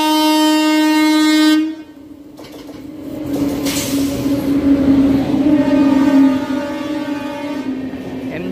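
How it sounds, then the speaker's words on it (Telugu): The MGR Chennai Central to New Jalpaiguri express train passing close by on the line, a loud sustained horn blast at the start giving way to a heavy rumble and clatter of wagons rolling past. "MGR Chennai central to new Jalpaiguri."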